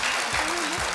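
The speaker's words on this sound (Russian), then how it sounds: "поддержите аплодисментами наших игроков" Studio audience applauding players on the Russian game show «Бегом за деньгами», a short steady wash of clapping with a host's voice briefly over it.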